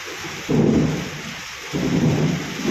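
Two deep rumbles of thunder roll in one after another over a soft, steady hiss of rain during a storm.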